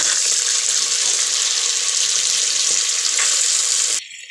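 Green chilies, peas and mint sizzle steadily in a hot pan, a loud continuous frying hiss close up that drops away abruptly near the end.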